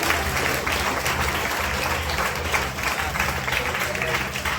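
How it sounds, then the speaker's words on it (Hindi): A congregation at a worship service claps together, dense, steady applause that carries on for several seconds with some voices mixed into the crowd noise. "रिसीव करो इसको ताली बजा के।"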